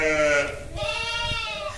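A young male lamb kept among goats and sheep on a farm bleats in one long, wavering cry, fairly close, with faint background noise beneath.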